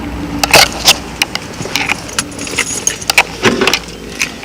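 Keys jangling and clicking in the ignition lock of a 2002 Toyota Sienna with an intermittent fault, loud close metallic rattles and clicks in irregular bursts, no talking.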